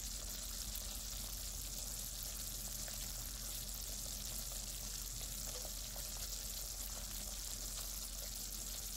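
Quiet, steady bubbling and crackling of butter simmering into ghee, a soft continuous sizzle with tiny pops and no voices.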